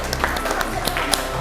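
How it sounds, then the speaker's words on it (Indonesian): A classroom audience claps for a student group after their presentation, a short burst of dense, steady applause. "tepuk tangan buat kelompok 3"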